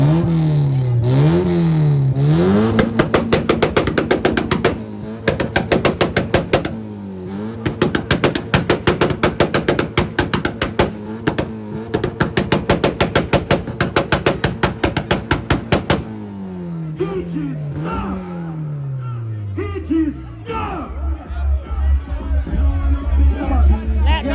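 A Honda car engine revs hard with antilag, rapid pops and bangs crackling over the rising and falling engine note, near and loud throughout, with a crowd murmuring and voices in the background.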